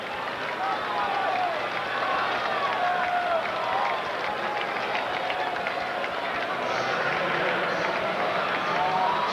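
A large crowd at a 1991 ALCS Game 5 baseball game between the Minnesota Twins and Toronto Blue Jays, played in Toronto, keeps up a steady wash of applause and murmuring throughout, with broadcast voices occasionally heard over the crowd.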